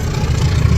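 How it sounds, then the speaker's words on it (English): Diesel engine of a Jakarta local train in Indonesia, a brief, loud, steady low rumble heard up close with no voices. "It's a diesel engine"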